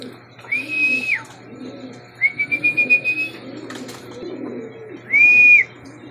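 Pigeons coo softly and repeatedly nearby while a few long, clear whistles ring out above them.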